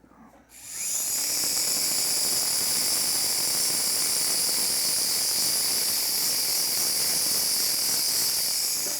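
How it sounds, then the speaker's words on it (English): Professional rotary carving tool with a small coarse belt sander attachment, set to about 30,000 RPM, spinning up quickly and then holding a loud, steady high-pitched whine close by, with no talk. "come in here and very quickly and effectively and efficiently clean up something like a little carving or any other places you need to reach with a small little belt sander"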